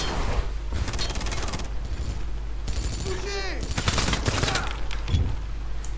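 Rapid bursts of gunfire from the video game Wanted: Weapons of Fate, loud and repeated in clusters with short gaps, mixed with game effects and someone talking over them.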